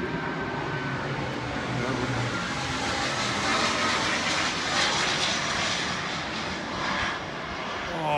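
A Cessna 560 XL Citation business jet coming in to land near Midway, its engine roar loud and steady, swelling as it passes close overhead and then easing slightly.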